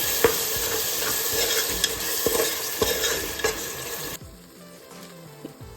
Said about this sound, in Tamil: அதையும் இது கூட ஆட் பண்ணி நல்லா வணக்கிக்கலாம்